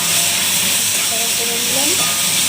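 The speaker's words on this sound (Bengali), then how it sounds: "তেলটা গরম হয়ে গেছে, এখন আমি এগুলো দিয়ে দিই।" Onion, potato and garlic frying in hot oil give off a loud, steady, broadband hiss that holds unbroken for the whole stretch, with faint tonal traces in the background.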